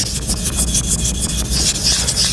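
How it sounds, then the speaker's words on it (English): Steel card scraper rubbed back and forth on a 220 grit sharpening stone, a close, steady gritty scraping with rhythmic strokes and no talk. "Give it a little bit on the 220 grit on the stone."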